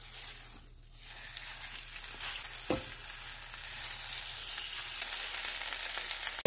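Marinated cumin pork loin slices fry in a little hot oil in a wok, a close, steady sizzling hiss that swells slightly over time, broken by one brief sharp knock.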